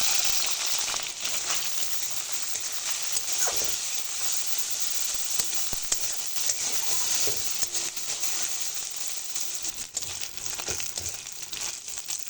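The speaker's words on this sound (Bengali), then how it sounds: "মাছগুলো ভেজে নেব।" Dried loitta fish fry in well-heated oil with a constant, bright spattering sizzle, close up and unbroken, with occasional sharp pops and crackles.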